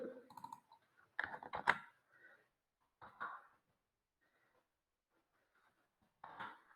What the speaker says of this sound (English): Just going to type here quickly.